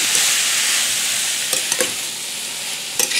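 Green beans sizzle and fry in a hot pan as they are stirred for sweet and spicy green beans, a steady hiss throughout with a few sharp scrapes and clicks of the spoon near the middle and end.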